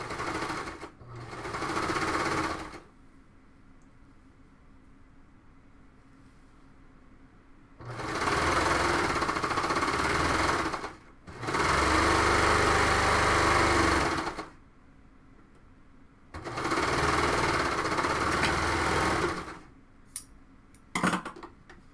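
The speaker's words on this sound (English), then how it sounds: "I'm just sewing the sleeve all the way to the side and front" A sewing machine stitches a sleeve onto the side and front of a cowl neck tank top in several bursts of steady whirring, a short one first, then three longer runs with pauses between, close and clear.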